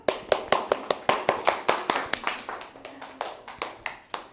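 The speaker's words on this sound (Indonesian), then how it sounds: "boleh tepuk tangan dulu" Classroom students clap their hands together in a loose, rhythmic pattern of distinct claps, moderately close, with a brief quieter stretch before the clapping resumes.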